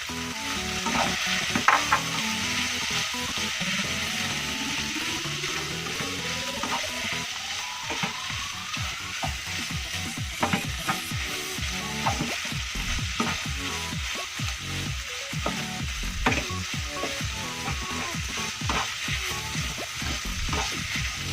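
Shrimp sizzling and frying in a wok for Acehnese mie goreng, with steady loud hiss and repeated scraping, clattering stirs of the spatula against the pan throughout, no talk.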